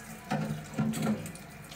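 Hot water running from a tap, a close gurgling flow with a few louder splashing surges as something is rinsed under the stream.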